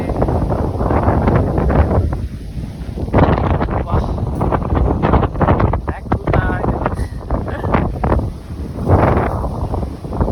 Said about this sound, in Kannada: ಗಾಳಿ ಜೋರಾಗಿ ಬರ್ತೈತೆ.